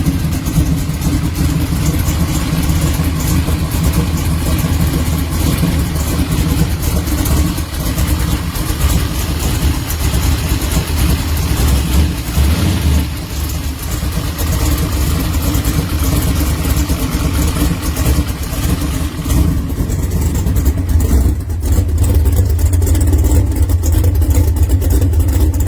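A 1970 Chevrolet Camaro coupe's engine idles loud and close with a lumpy, rumbling beat, swelling into revs now and then, a streetable build with 550 horsepower.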